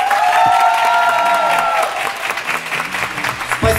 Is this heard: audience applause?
yes